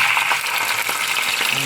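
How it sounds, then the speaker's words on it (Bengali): Ginger garlic paste hitting hot oil with chicken in a pan, a steady, close sizzle filling the short stretch with a faint clink near the end. "এখন আমি এখানে দিয়ে দিচ্ছি 1 চামচ আদা রসুন পেস্ট"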